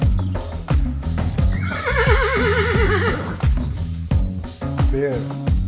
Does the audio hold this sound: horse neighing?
yes